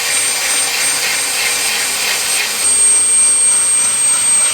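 Power drill grinding material out of a VW transmission housing on a Meyers Manx-style buggy project, a steady whining drone holding constant for several seconds and rising in pitch and loudness partway through, close by with no talk.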